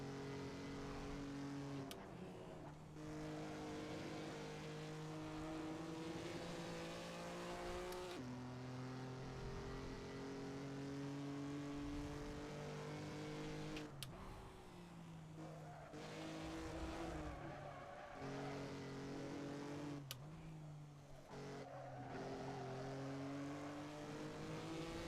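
A race car in the video game Assetto Corsa drones loudly and steadily for the whole stretch, its engine pitch climbing through gears with brief drops at shifts and occasional tire squeal, with no voices.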